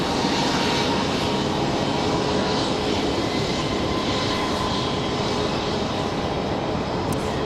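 An American Airlines Airbus A321 idles and rumbles at Raleigh-Durham airport, a steady broadband jet engine roar that holds evenly throughout, moderately near and with no voices over it.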